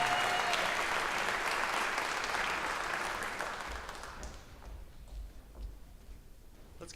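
Audience at a county jazz festival applauding the soloists, full steady clapping that gradually thins and fades to sparse claps with a low rumble underneath.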